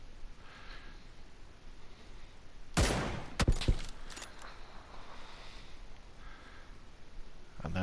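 M24 sniper rifle shots in PUBG on the snowy Vikendi map: a couple of sharp, loud cracks a moment apart in mid-clip, set against a quiet, steady outdoor ambience.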